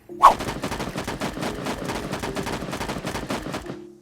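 Rapid automatic gunfire from the fire button in the mobile shooter Sausage Man, a dense steady stream of shots lasting several seconds, loud and close with a brief sharp burst at the start.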